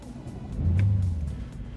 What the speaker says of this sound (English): that also comes with a really nice exhaust note